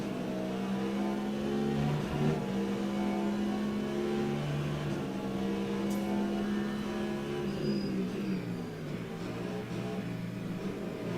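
Race car engine in the Le Mans Ultimate sim game at Fuji holds a loud, near, steady high-revving drone, then pitch sweeps down as the car brakes hard for a hairpin before climbing again on acceleration.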